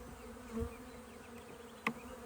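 Honey bees buzzing around a nuc hive during an inspection, a steady close drone with a couple of louder passes as single bees fly right by.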